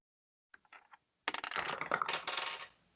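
Dice roll for a perception check in a tabletop roleplaying game: a few light taps, then a rattling clatter across a hard surface lasting over a second before settling, close and with no talk.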